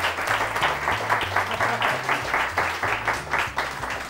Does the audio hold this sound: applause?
yes